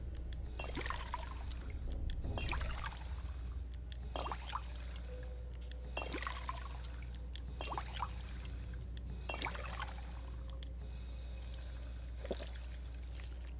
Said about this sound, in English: Fill those bottles full of water.